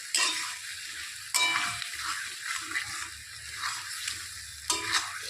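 Nigella seeds tempering in hot oil for an egg curry, a soft steady sizzle with a few sharp stirring scrapes and clinks of a utensil against the pan, close up, with no talk.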